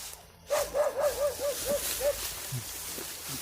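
Dog barking in a rural Philippine setting, a run of about seven quick, fairly faint yips over background ambience, with soft rustling after.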